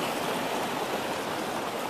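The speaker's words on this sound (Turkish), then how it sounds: "Asıl nehir buradan akıyor." A river flows over round stones outdoors, giving a steady, close, full rushing of water that stays unbroken throughout with no voices over it.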